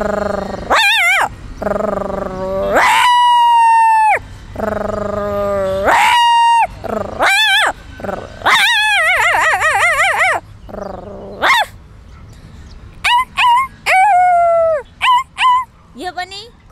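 A girl imitates a puppy barking with her voice, giving loud, close, high-pitched yips and whimpering squeals in quick bursts, separated by short pauses.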